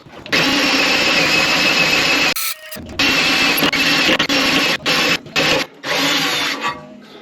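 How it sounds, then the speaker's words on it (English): A power drill bores holes in the chassis of an AP Cobra kit car, running in long loud bursts with brief pauses and restarts, close to the microphone and without talk. "just drill 4 of those, easy."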